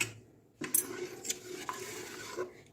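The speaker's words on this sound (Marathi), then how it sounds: "तो एकदम आपण असा चम्मचने फिरवून हाताने फोडून सेल करून घ्यायचा आहे" Spoon scraping and stirring wheat starch paste in a metal pot, with close clinks and soft scraping strokes after a quiet start.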